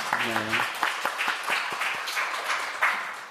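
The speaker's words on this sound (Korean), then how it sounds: "하나님께 영광의 박수 한번 돌려드리겠습니다" A church congregation claps in praise during a Sunday service, scattered rhythmic claps with a voice briefly sounding at the start and murmuring beneath.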